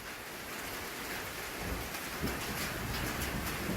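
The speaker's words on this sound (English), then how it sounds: "I don't know if you can hear the thunder." Steady rain pours during an Oklahoma thunderstorm, a dense hiss with low rumbling thunder rolling underneath and swelling slightly toward the end, no voices.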